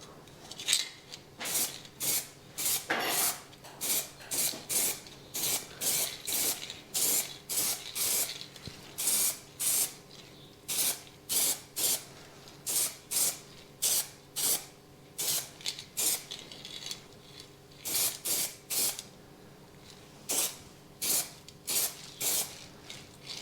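Single-stage wheel paint sprayed from a spray gun in a workshop, repeated short hissing bursts in a steady rhythm, loud and close, broken by brief quiet gaps between passes.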